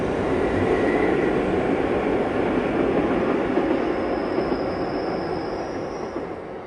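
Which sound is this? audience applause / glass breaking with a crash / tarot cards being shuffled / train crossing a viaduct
train crossing a viaduct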